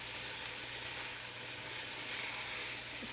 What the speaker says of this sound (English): Stir this around and cook until the meat is browned